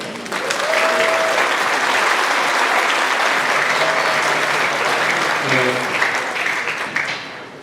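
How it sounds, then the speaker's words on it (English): An audience at a school spring band concert in North Montgomery claps loudly and steadily in a large room for the band booster president, a dense sustained wave of applause that tapers at the end, with a little talking underneath. "Let's give her a round of applause."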